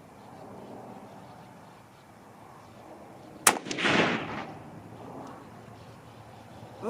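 A single rifle shot from a .30-06 or .308 cartridge on an outdoor range, one sharp crack midway through followed by a brief rumbling echo against a quiet background.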